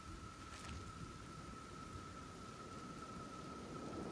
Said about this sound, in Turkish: Buradan gelen geçen yağmurdan etkileniyor ya, asit yağmurundan.